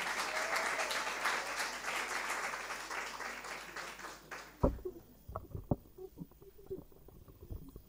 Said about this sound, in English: Let's clap for Kishma.